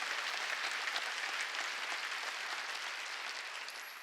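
A church congregation at a Wednesday worship service breaks into sustained, even clapping that fades slightly toward the end, with no voices over it.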